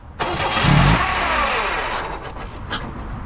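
1996 Oldsmobile Cutlass engine cranking briefly, then catching and revving to a loud, close running roar that settles into a rough idle.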